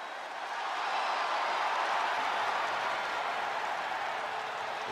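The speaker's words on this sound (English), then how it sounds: "Listen to this ovation. The WWE Universe loves cheering on the EST." Video game wrestling arena crowd for a WWE 2K23 SummerSlam match gives a steady, loud ovation, a dense wash of cheering and clapping that swells in and holds level throughout.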